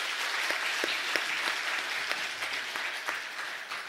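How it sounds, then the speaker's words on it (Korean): A church congregation applauds together during a Sunday worship service, a steady, dense wash of clapping sustained evenly throughout, with a few sharper individual claps standing out. "하나님께 영광의 박수 올리겠습니다."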